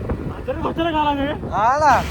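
Wind buffets a microphone outdoors on a rainy ride, a constant low rumbling roar running beneath a loud, close voice.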